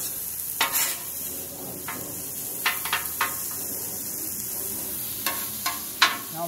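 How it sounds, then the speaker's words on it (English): Egg rolls frying on a diner griddle: a constant sizzling hiss with a scattering of sharp metal scrapes and taps from a spatula, fairly close and free of talk. "And then it's got some egg rolls cooking."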